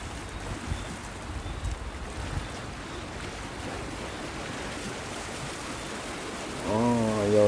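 Wind and breaking waves rush steadily around a Vietnamese fishing boat speeding back toward Bình Ty port, and near the end its engine comes in as a loud, low, steady drone under the water noise.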